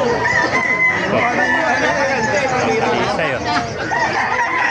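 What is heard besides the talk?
chickens and roosters crowing at a market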